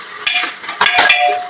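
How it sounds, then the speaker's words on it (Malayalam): Crushed ginger, garlic and green chili stirred in a hot pan: a close, steady sizzle broken by a few quick scraping strokes of a spoon, with no voices. "എന്നിട്ട് ഇതൊന്ന് ഇളക്കി കൊടുക്കുക."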